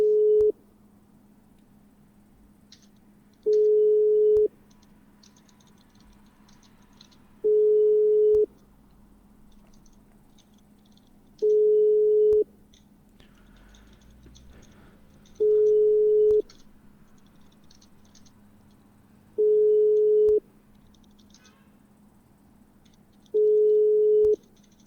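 An unanswered phone call in a police roleplay video game, with a steady single ringback tone pulsing on and off about every four seconds, seven times, over a quiet background hum with faint distant sounds.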